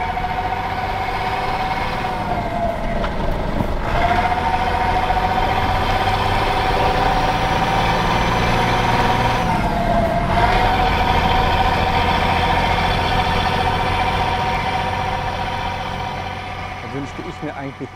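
A Steyr 12M18 expedition truck's engine roars in a steady, loud, droning rumble. The pitch rises and falls twice as the revs change.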